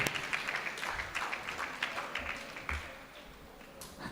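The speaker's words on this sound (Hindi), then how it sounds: "तालियों के माध्यम से स्वागत करेंगे" An audience claps together in a hall, a ragged burst of applause that swells at the start and then thins out over a few seconds.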